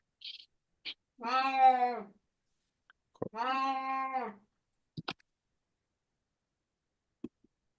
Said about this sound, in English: Sorry about my cat here.